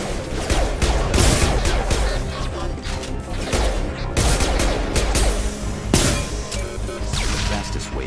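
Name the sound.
shotgun fire in Mass Effect 2 video game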